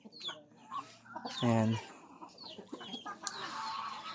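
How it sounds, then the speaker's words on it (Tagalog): A hard-to-catch chicken in a provincial Batangas yard gives a short, loud cluck in the middle, with other faint fowl calls around it. Men chat and call out casually throughout. "Hindi mahuli ni Puti yung manok."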